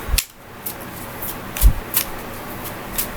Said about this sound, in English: I'm going to shuffle the deck for the next reading